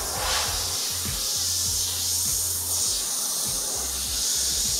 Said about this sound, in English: Just some freehand dusting over a couple of areas to soften them off and to give that reddish tinge.